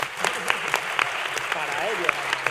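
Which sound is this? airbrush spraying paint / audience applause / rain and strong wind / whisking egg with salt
audience applause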